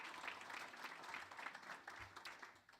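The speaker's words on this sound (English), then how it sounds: "give them a round of applause" Applause for alumni at a university awards banquet, a steady wash of clapping hands from the seated audience that holds at an even level throughout, with no voices on top.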